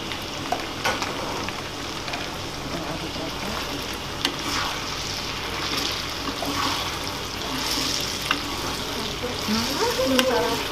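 Blended sweet potato juice hits a hot pan for fish siomay batter, frying with a steady broadband sizzle while a utensil stirs and scrapes in intermittent clicks; close and fairly loud, no talking.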